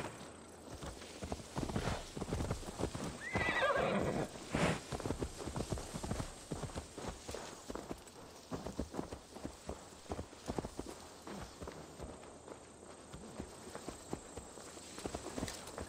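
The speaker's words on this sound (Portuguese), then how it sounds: "Será que eu preciso subir no cavalo?" Steady hoofbeats of a walking horse in Assassin's Creed Valhalla, rhythmic clip-clop footsteps running throughout at moderate level over soft game ambience, no talk.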